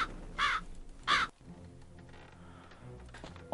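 A bird in the adventure game Jack Keane gives two loud, harsh caws close together near the start, followed by quieter game ambience and a fainter call near the end.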